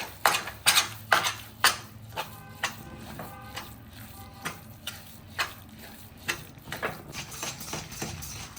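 Stirring adadiya pak mixture in a pan gives a run of sharp metallic clinks and scrapes, fast and regular at first, then sparser and softer over a low background hum.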